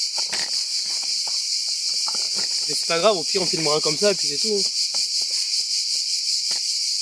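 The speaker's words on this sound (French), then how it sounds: "On entend les cigales, c'est magnifique." Cicadas buzz outdoors in a loud, unbroken high drone that fills the whole span, while someone talks briefly underneath.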